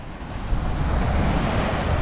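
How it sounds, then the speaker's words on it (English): Strong wind gusts buffet the microphone on a beach just outside Perth, a loud steady roar mixed with surf-like rushing, constant throughout. "the wind is here"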